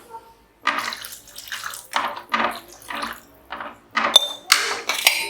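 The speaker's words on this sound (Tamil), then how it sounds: "நம்ம தண்ணி இன்னும் கொஞ்சம் கூட சேர்த்துக்கலாம்." Water splashing and pouring in short uneven bursts into a cooking pot of sambar, close by, with a few metallic clinks near the end.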